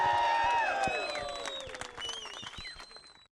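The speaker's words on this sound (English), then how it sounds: "How about another round of applause for Atsushi Hara?" Crowd applause for the winner of the 2008 IFMAR 1/8-scale nitro off-road buggy world championship: light, scattered clapping under strong high-pitched whining tones that sweep and fade as the whole sound tapers off.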